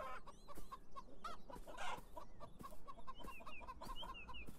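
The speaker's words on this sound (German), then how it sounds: "Das sind wohl Hühner." A flock of chickens clucks steadily in the video game Beyond Eyes, with rhythmic short clucks and occasional higher squawks repeating throughout, close and continuous over a soft outdoor background.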